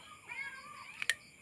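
A house cat meows faintly in a short, thin call, with a couple of sharp clicks from a camera lens adapter being fitted just after.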